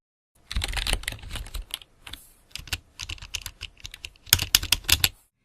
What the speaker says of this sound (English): You'll also need lots, and I mean lots, of keyboard sounds.